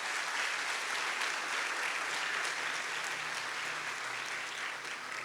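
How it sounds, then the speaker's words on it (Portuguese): A church congregation applauds during a sermon, a broad, steady sheet of clapping from many people that fills the space evenly and stays strong for several seconds. "Você pode aplaudir o Senhor."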